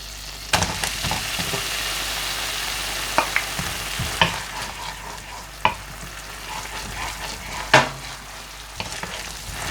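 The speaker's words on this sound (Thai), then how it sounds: "เราจะคั่วกุนเชียงกับน้ำจนเขาแห้งแล้วก็กุนเชียงสุกนะคะ" Steady sizzling of Chinese sausage stir-frying in a pan with water cooking off, with scattered clinks and scrapes of a utensil stirring, no voices.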